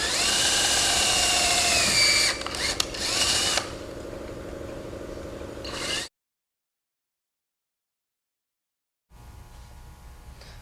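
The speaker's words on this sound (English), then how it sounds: "Okay, we've transfer drilled all the holes in our fuel cap ring." A power drill transfer-drills holes in a metal fuel cap ring for a 13-gallon fuel tank retro kit, whining loudly and steadily for several seconds, then dipping and stopping before near-silence and a faint return.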